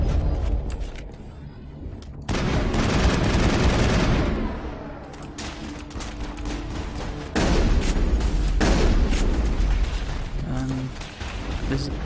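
Gunfire in the video game Mass Effect, repeated bursts of shots with heavy booming impacts, loud and dense across the stretch, with a speaking voice mixed in.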